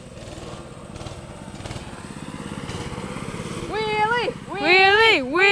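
A dirt bike engine buzzes steadily, building in loudness, then revs hard in two rising and falling sweeps near the end, with voices heard in the background.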